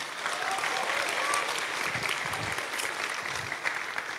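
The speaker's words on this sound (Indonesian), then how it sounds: "Tepuk tangan dulu dong buat guru PAUD nih." A lecture-hall audience of university students in Bandung applauds a kindergarten teacher. The clapping is steady and dense, with moderate loudness throughout.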